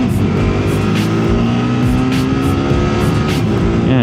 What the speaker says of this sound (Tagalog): Tingnan, mag-quick shift tayo dito.